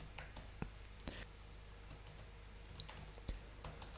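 Someone types on a computer keyboard, with quiet, uneven key clicks and a few sharper taps, close by and on their own in a quiet room.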